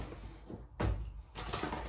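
A drawer full of paintbrushes being pulled open, a short wooden slide and bump heard once near the middle against a quiet room background.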